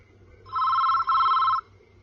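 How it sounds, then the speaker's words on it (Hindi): A telephone rings in two clear, loud electronic bursts close by with a short gap between them, in an indoor room with no talking. "चलो फोन उठाओ। फोन उठाओ किरण।"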